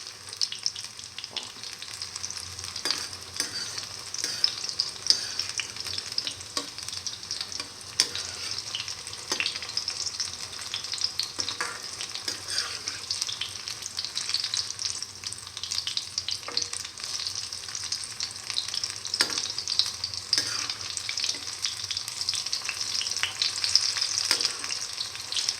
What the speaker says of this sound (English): And let it fry.